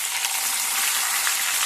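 Onions fry with raw banana pieces in a hot pan, giving a dense, steady, loud sizzle that holds evenly for the whole moment with no pauses.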